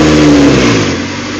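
A 2001 Honda CR-V with a 2.0L engine, running noisy, gets one quick throttle blip: a loud, close rev that swells and then falls back toward idle.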